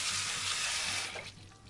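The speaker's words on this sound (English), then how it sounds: "I'm going to rinse them under some cold water just to stop them from cooking any further." Cold tap water runs steadily over cooked Puy lentils in a kitchen sink, a close, even rushing splash that softens near the end.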